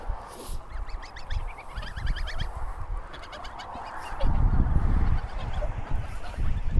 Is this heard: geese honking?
yes